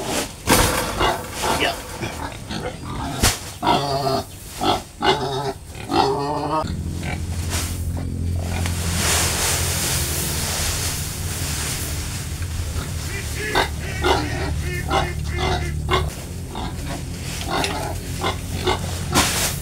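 A pregnant sow grunts repeatedly before farrowing, close and loud, in bursts of rough snorting grunts with a steady low hum underneath in the middle stretch.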